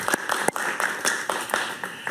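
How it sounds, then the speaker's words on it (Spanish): A studio audience at a Spanish-language talk show claps, with several sharp rhythmic claps standing out over a thinner background of applause, fairly close and moderately loud. "El aplauso es para ustedes"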